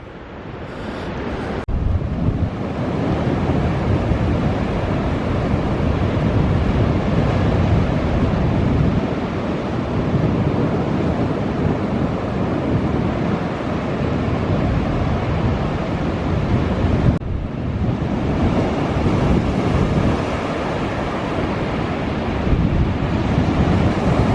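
Ocean surf rolls and washes continuously onto a beach as the tide comes in, loud and close, with heavy wind buffeting the microphone throughout.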